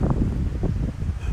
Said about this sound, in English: because it's really windy up here and I'm freezing